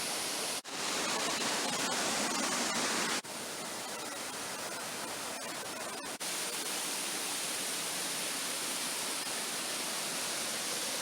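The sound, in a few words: waterfall of Rego de Palanca on Galician hiking trail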